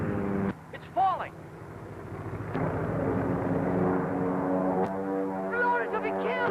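An airplane struck and going down in a 1942 film scene, heard as a steady droning engine roar with a whining pitch sweep, rising in loudness under a musical score as voices speak over it.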